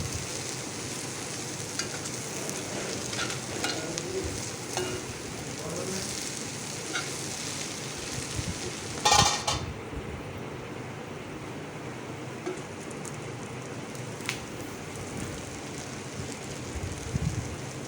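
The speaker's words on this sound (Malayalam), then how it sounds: "ഇടയ്ക്കൊന്ന് നമുക്ക് അത് ഇളക്കി കൊടുക്കാം" Clam meat cooking in a pot gives a soft, steady sizzle with occasional scrapes and clinks of stirring, fairly faint and continuous, with no talk.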